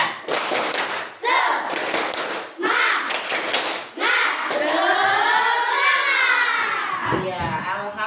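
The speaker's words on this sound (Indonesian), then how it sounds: "Coba tepuk semangat dulu." A school class performs a rhythmic spirit clap together, sharp bursts of hand claps landing in a patterned beat, mixed with children's chanting voices that rise into a sustained group shout.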